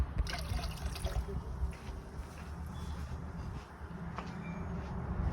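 Water poured and sloshed in a gold pan during cold-weather panning, a close, steady trickle and splash with low rumbling underneath, continuing for several seconds.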